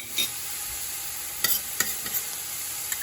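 Ground beef and mixed vegetables sizzle steadily in a pan as garlic goes in, with a few sharp scraping stir strokes breaking through the low frying hiss; no one speaks.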